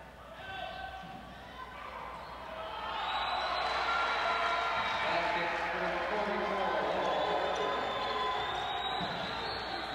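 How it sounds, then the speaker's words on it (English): Crowd applauding at a 1991 men's college basketball game against Saint Joseph's, a broad wash of clapping and cheering in the arena that swells and holds, with sneaker squeaks and a commentator talking over it. "the crowd acknowledges this great effort with a good hand clap there"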